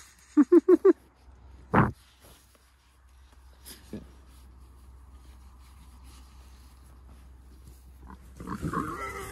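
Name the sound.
pigs grunting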